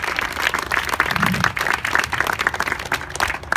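Audience applause at a public presentation on the Mystic River water quality report card, a steady burst of clapping lasting a few seconds with a faint voice or two mixed in.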